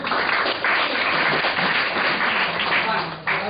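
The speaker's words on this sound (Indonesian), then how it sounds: "Kasih tepuk tangan untuk teman kita ya." An audience in a business training session applauds a colleague, a dense burst of close clapping that runs steadily and tapers slightly toward the end, with voices mixed in.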